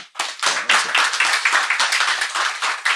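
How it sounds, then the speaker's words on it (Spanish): A room full of people claps steadily for about three seconds at a Chilean panel discussion on mining resources, a dense close patter of many hands with no speech over it. "un aplauso para"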